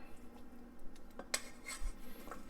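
Tender, falling-apart ham hocks going back into a pan, heard as a few light knocks and clinks of utensils against the cookware, close but fairly quiet, with no talk.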